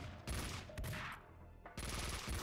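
Gunfire in the video game Max Payne 2: a few loud close bursts of shots with short gaps between them, the last burst coming after a brief quieter stretch, with no talking.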